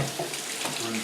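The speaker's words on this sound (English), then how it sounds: "Rinse the plate." Tap water runs steadily into a sink, rinsing a plate, a continuous close splashing hiss heard alone.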